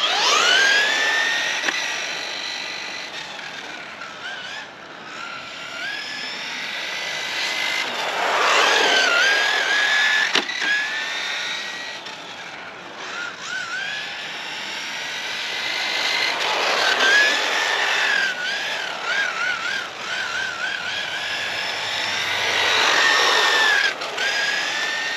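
The electric motor of a Kyosho Mk2 RC car whines as it accelerates in repeated runs, rising and falling in pitch, steady and fairly loud, with no talk over it.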